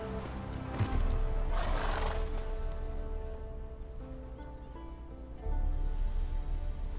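Roach, the horse in The Witcher 3, whinnies in a loud burst amid game ambience, with steady rain-like noise and a low rumble running throughout.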